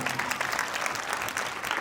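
An audience at a school annual prize distribution ceremony claps for teacher Balwan ji, a continuous, fairly soft patter of many hands heard from a distance in a hall.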